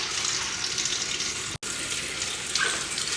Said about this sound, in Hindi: यहाँ पे मैं धो रही हूँ आलू